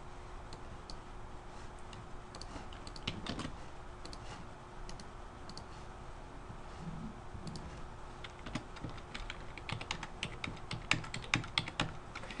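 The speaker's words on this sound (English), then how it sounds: "So now if I type in -6 invalid index" Numbers being typed on a computer keyboard, a run of light, quick key clicks in uneven clusters, faint and close, growing denser toward the end with no voice.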